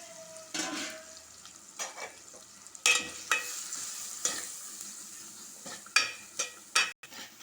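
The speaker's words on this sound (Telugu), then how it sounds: "టమాటా కొద్దిగా వేగనిద్దాం టమాటా కొంచెం మెల్ట్ అయిన తర్వాత మనము సాల్ట్ ధనియా పౌడర్ కారం పసుపు మొత్తం వేసాం" Tomatoes frying in a pan with salt, coriander powder, chili and turmeric for a tamarind curry, a steady close sizzle broken by repeated scraping stirs and a few sharp utensil knocks, no talking.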